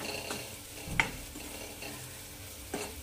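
Rajma masala with dhania powder and whole spices being stirred and sautéed in a pan for Punjabi-style rajma, a soft continuous sizzle broken by a few sharp spoon scrapes against the pan, close by with no voices.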